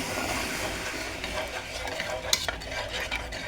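A spoon stirs a sugary sweet mixture for aluva in a pot, making a soft, steady scraping and swishing with a few small clinks against the pot, fairly faint and without talk.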